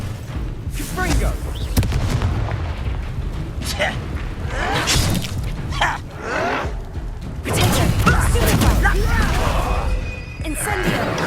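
Confringo explosion spells cast in Hogwarts Legacy gameplay, several booming blasts and crashes erupting in bursts among chaotic combat noise, with voices shouting spell names over them.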